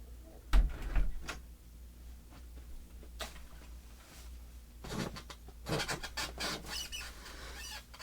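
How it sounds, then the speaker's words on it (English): An indoor door being pushed shut, with two close, solid knocks near the start, then quieter handling rustles and a burst of rattling clatter later on, with no talk. "I had to close the door."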